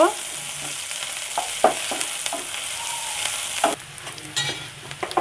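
Spices with three cloves sizzle in hot oil in a frying pan while a spoon stirs and scrapes through them, a few sharp clinks standing out before the sizzle drops to a softer hiss near the end.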